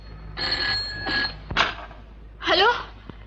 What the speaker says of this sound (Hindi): खाने की घंटी नहीं है, टेलीफोन की घंटी है।